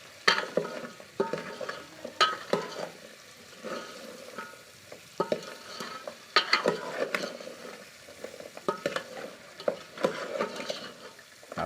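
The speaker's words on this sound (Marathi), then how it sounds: "हलवत राहिलं पाहिजे नाहीतर तो मसाला जळेल" Crab curry masala, Malvani style, stirred and sautéed in a pan, with a steady sizzle broken by repeated scraping strokes of the spoon, close and moderately loud with no talk.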